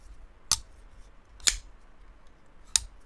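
A Kizer Momo folding knife, a kitchen-style folder, gives three sharp, tinny clicks spaced about a second apart, close and crisp against a quiet background.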